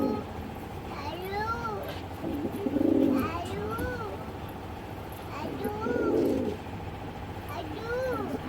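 A pair of Hammer pigeons coo close by in repeated throaty, rising-and-falling calls over low background noise, with a few muffled rustling bursts between them.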